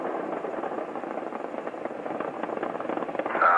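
The Space Shuttle Challenger's main engines roar during ascent on mission STS-61A in 1985, a distant, steady, rumbling rush heard through a radio-like channel, swelling slightly at the end.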